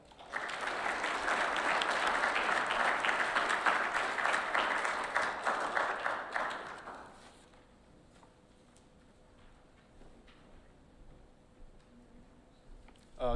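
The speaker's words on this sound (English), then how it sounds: "Let's give him a round of applause." Warm applause from the audience at a Boy Scout troop Eagle Court of Honor, steady for about six seconds, then fading quickly into quiet room tone.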